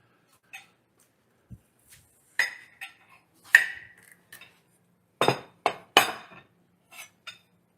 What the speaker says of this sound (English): I'll just take my fork and kind of rake them out of there.